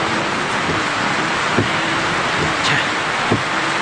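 Heavy rain pours down around a stalled car, a loud, dense, unbroken hiss with a couple of brief dull knocks standing out from the steady downpour.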